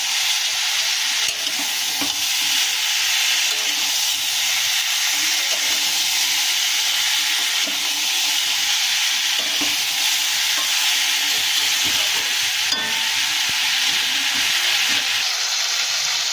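Vegetable curry of ridge gourd stirred in a pan after sugar goes in, a steady close sizzling hiss with faint scraping throughout, no talk.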